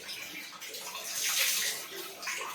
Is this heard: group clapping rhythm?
no